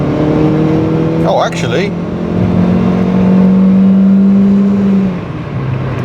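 A Mitsubishi 1.5-litre automatic's engine roars and climbs in pitch as it accelerates hard at full throttle toward 6,000 rpm, loud and close, with a brief spoken remark over it near the start.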